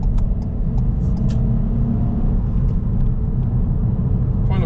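A car pulls out of a roundabout onto a two-lane road near Winchester and accelerates firmly in a low gear, its engine rising to a steady, loud, continuous rumble close up with road noise, and no talk.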